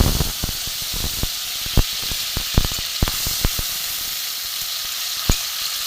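Chopped tomato sizzles in hot oil in a kadai, a close, constant hissing fry broken by scattered sharp crackles and pops.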